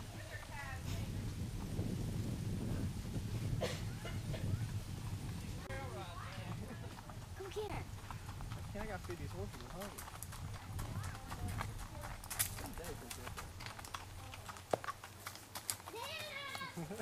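Pony hooves clip-clop along during a pony ride, a steady light clatter running through the whole stretch beneath frequent conversation and children's voices, with occasional sharper knocks.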